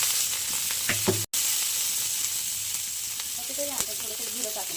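Hot oil sizzles in a pan while cooking guar beans, a steady crackling hiss at moderate level with a brief dropout and a few stirring clinks, no voices.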